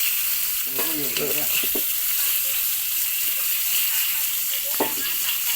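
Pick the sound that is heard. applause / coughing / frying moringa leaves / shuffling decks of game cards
frying moringa leaves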